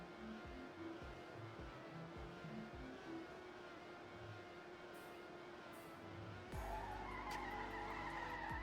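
Race cars drifting in Trackmania, with engine drone and tire squeal held steady at moderate level, then a louder burst of skidding and revving in the final seconds.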